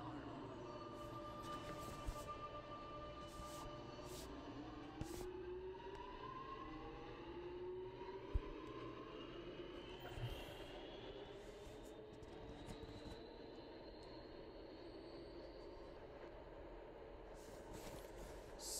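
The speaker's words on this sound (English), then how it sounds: "Here's train number two." A video game train arriving at a station in Roblox makes a drawn-out, rising and falling electric whine that rolls through with a rumbling undertone, fairly faint, with small clicks and thumps along the way.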